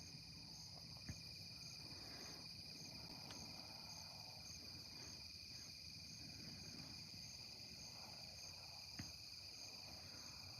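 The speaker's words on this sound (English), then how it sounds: "Hear the crickets." Crickets chirp steadily at night outdoors, a faint continuous high trill with occasional soft clicks and rustles, no voices.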